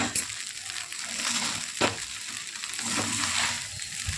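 Fried rice vegetables stirred in ghee with sugar, close frying crackle and hiss with scraping stirring strokes and a couple of louder knocks of the spatula against the pan, no talking.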